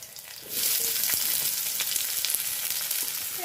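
Onion frying in a pan with nigella seeds and green chillies for a Bengali greens dish: a steady hiss of sizzling that jumps up after a brief quieter start and holds close and continuous.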